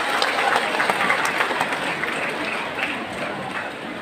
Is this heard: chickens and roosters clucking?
no